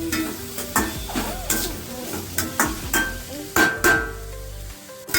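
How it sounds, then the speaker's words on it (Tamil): Onions and curry leaves sizzle in a pan while a utensil stirs and taps against the metal in repeated scraping clatters, close and moderately loud. "வெங்காயம் நல்லா வதங்கி வருது."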